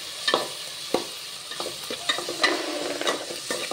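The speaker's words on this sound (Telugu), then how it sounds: "సాల్ట్ యాడ్ చేసుకొని ఫ్రై చేసుకుంటే టమాటా బాగా ఫ్రై అయిపోతుంది." Chopped tomatoes with salt frying in a pan, a steady soft sizzle broken by repeated scraping stirs of a spoon, close and clear with no talking.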